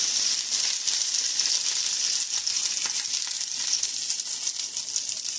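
Lime fish fries in a pan over medium heat with a dense, continuous sizzle that stays loud and steady throughout, with no other sounds.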